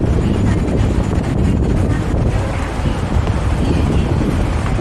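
Strong wind buffeting across an open bridge, a loud, constant roar of gusts hitting the microphone with no pause throughout.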